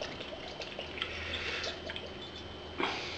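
Worcestershire sauce being poured from a bottle into a beef jerky marinade, a soft close trickle and splash of liquid with faint drips, alone with no talking.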